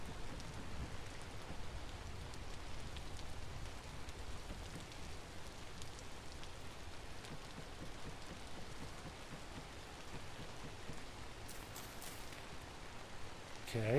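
Steady rain falls outdoors, a dense, even hiss of drops that carries on unbroken from start to finish and stays at the same level throughout.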